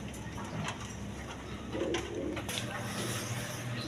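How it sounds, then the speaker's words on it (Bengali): Lahori pigeons coo softly among a flock, a steady low murmur of calls over faint background noise, with no clear speech. "ইউসেবের অরিজিনাল লাহোরি কবুতর"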